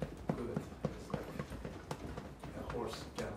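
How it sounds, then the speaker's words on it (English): Fingers tap steadily on the sternum, firmer than gentle, in a quick galloping rhythm of soft thumps while a voice talks over them. "Find your sternum and tap."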